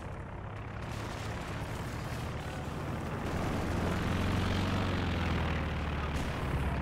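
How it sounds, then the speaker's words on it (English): A propeller aircraft in a combat video game drones steadily overhead, a continuous low rumble at moderate loudness that holds throughout without pause. "I'm tracking the plane right now, a little bit difficult, but it is taking hits from something"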